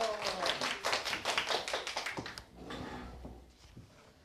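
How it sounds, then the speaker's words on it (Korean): A small group clapping to welcome a light-and-shadow children's story, a quick rhythmic run of close claps for about two seconds that fades into quieter room sounds. "박수로 맞이해 주세요"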